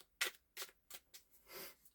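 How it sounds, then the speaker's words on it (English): A deck of cards being shuffled and riffled in a few quick bursts, close and quiet, with short pauses between them. "one more shuffle here."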